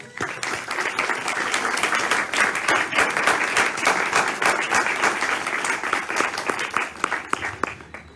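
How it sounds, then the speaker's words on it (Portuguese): A congregation at a Sunday Mass in a church applauds its catechists, with sustained, evenly dense clapping from many hands filling the space for several seconds before it thins out. "Para estes vossos catequistas, uma salva de palmas."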